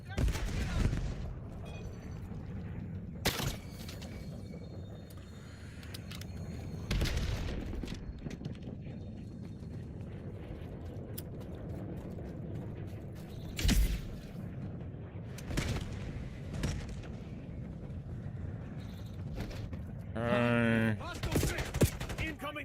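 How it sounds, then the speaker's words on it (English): Gunfire in Call of Duty BO7, scattered loud shots and bursts over a busy battle background, with a rattling burst near the end; voices speak at times. "Hostile hit. Incoming fire."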